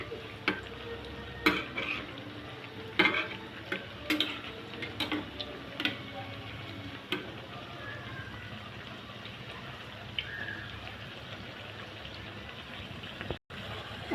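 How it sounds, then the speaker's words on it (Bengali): Egg-dipped bread slices deep frying in hot oil give a steady, quiet sizzle, broken by scattered clicks and taps of a utensil against the pan. "এইভাবে ডুবার তেলে আপনারা ভেজে নেবেন।"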